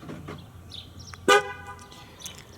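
A 2009 Ford Fusion SE locking, marked by a single short horn chirp, close by and loud against quiet surroundings, with some faint handling noise before it.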